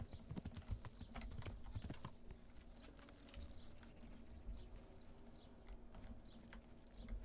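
Steady clip-clop of horse hooves in the video game Kingdom Come: Deliverance, a regular trotting rhythm close by, continuing throughout with faint ambient noise behind.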